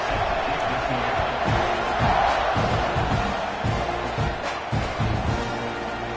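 A stadium crowd in the College Football 26 video game cheers before the kickoff, a steady dense roar that fills the whole stretch, with rhythmic thumps and a commentator's voice running over it.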